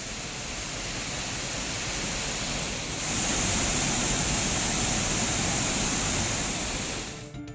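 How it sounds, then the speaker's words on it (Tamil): The Suruli waterfall in flood after heavy rain roars as a steady, dense rush of water, loud and unbroken throughout, swelling slightly partway through with no voices. "இதனால் வனப்பகுதியில் உள்ள ஆற்றில் நீர்வரத்து அதிகரித்து அருவியில் வெள்ளப்பெருக்கு ஏற்பட்டுள்ளது"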